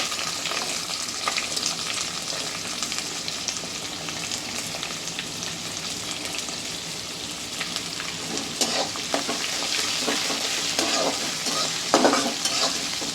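Urad dal fries in hot oil in a pan for upma, with a dense, continuous sizzle and frequent spoon scrapes and taps that grow a little busier toward the end.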